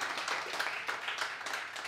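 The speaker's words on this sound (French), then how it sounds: "Ah, vous pouvez l'applaudir." Studio audience applauding a TV quiz show contestant, a steady, fairly faint wash of clapping lasting a couple of seconds with no voices over it.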